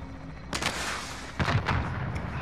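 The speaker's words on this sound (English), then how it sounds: "Hey, there's a guy shooting at me." Gunfire in Call of Duty Warzone Plunder mode, a couple of heavy booming shots and bursts about a second apart over a constant rumbling game background, fairly loud and with no talk.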